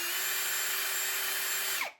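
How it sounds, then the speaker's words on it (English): A power drill fitted with a 5/32 inch bit bores through a fork guard bracket on a 2016-2022 Yamaha YZ450F, a steady high whine held for about two seconds before winding down and stopping. "put that in the drill and drill straight through right here."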